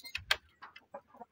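A rooster gives short, irregular clucks and sharp chirps, a couple of louder bursts at first and then softer scattered calls, close by with no one talking.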